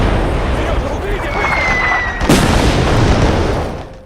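During a World War II battle on the Soviet front, an artillery shell explodes near a trench with a sharp, heavy blast over a roaring, chaotic war soundscape, with a voice speaking throughout.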